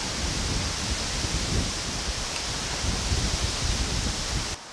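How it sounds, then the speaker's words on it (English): Strong wind roars steadily as a broad, continuous rush of noise around a Jeep, loud and unbroken until it cuts off abruptly at the end. "why is it so windy?"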